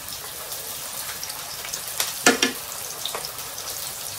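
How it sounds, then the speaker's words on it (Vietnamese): Seasoning mixture of soy sauce and lemongrass poured over crisp fried tofu in a hot pan, giving a sharp burst of sizzling around the middle over a steady background hiss of frying. "mình rưới cái hỗn hợp gia vị này vào"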